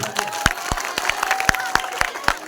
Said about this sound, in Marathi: या चिमुकलीसाठी एकदा टाळ्या झाल्याच पाहिजे